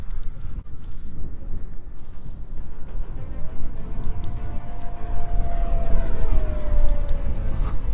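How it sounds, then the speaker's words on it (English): A fast RC jet plane streaks past outdoors, its thin whining tone rising and sliding downward as it passes, over constant wind buffeting and rumble. "These jet planes are so fast,"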